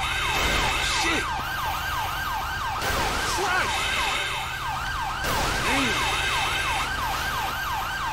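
A fire truck siren in GTA 5 wails loud and close in a fast, repeating rising-and-falling pattern, with traffic noise beneath it, at a highway fuel tanker fire.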